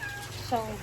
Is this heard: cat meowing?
yes